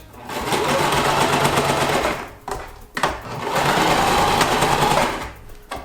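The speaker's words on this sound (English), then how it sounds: "make sure to do a good back stitch" A sewing machine stitches loud and close in two sustained runs with a brief pause between, back stitching along the edge of an ironing board cover.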